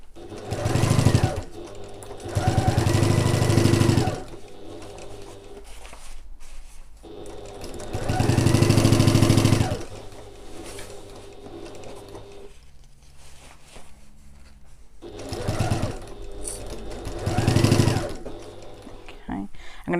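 A sewing machine stitches a fabric handy sack in several loud bursts of rapid whirring, each lasting one to two seconds and separated by quieter pauses, with a softer hum between runs.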